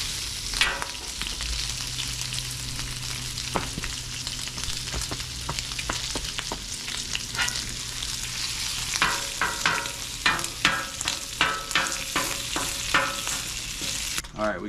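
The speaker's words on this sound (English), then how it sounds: "we're gonna throw some butter down and get ready to put these buns on. We're just gonna mix it in with our bacon grease." Po' boy buns toasting in butter mixed with bacon grease on a hot griddle, a steady close sizzle with scraping and stirring clatter through the middle and a run of sharp spatula clicks near the end.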